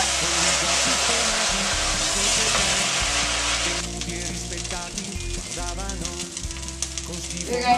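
Risotto rice with wine stirred in a hot pan: a loud hissing sizzle that eases after a few seconds, with scraping stirring sounds close by and no talking.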